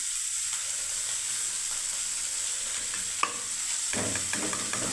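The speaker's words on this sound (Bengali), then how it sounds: "জল এই দেখুন ফুটে গেছে প্রেসার কুকারে, মুগ ডাল দিয়ে দিলাম" Moong dal is tipped into water boiling in a pressure cooker: a steady bubbling hiss, then a sharp tap and a rushing, rattling pour of lentils near the end.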